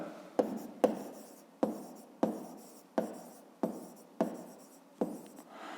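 A pen scratches across paper in short bursts, seven or eight quick strokes each starting sharply and trailing off, close and quiet against a silent background.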